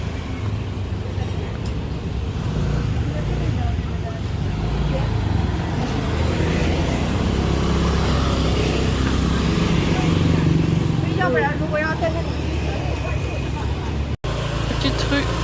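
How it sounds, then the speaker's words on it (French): Busy street in Ubud, Bali, lined with shops: a steady mix of cars and motorcycles passing close by, forming continuous roadway noise with bits of voices in the background. "c'est une rue très bruyante, plein de boutiques"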